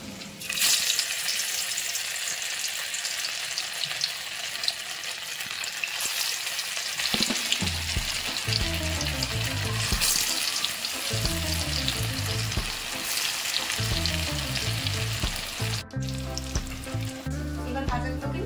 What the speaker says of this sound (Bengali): আর এগুলোকে এবার আমি গরম তেলে ছাঁকাতে ভেজে নেব।